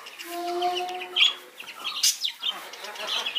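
Chickens and pigeons feeding together nearby: a chicken calls at the start, followed by a close, irregular run of clucks and sharp chirps.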